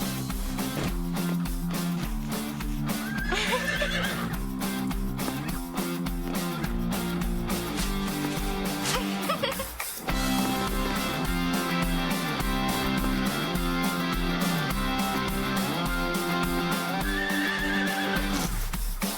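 Cartoon horses neigh and whinny in an animated French series about horse riding, with whinnies rising over continuous background music throughout.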